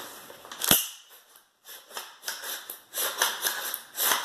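Several sharp metallic clacks and slides in quick succession as an AR-15 charging handle on a Bear Creek Arsenal upper is racked, one loud snap near the start then repeated strokes, close and clear, no talking.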